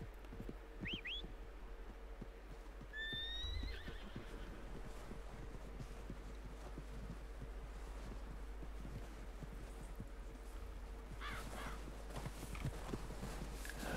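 A horse in the Red Dead Redemption II video game whinnies several times as it approaches, with short neighs near the start, around the fourth second and again toward the end, over a steady wind-like outdoor ambience.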